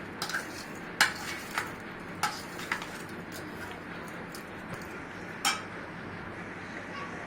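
Spoon clinks and scrapes against a pan as salt and sugar are stirred into poha, scattered metallic taps at irregular intervals over a soft steady background.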